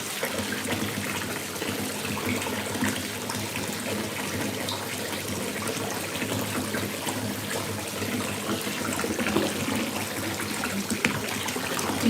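Hot water pouring from a tap into a bathtub, a steady, unbroken rushing and splashing stream heard close by and at moderate volume, continuing without pause and with no voices.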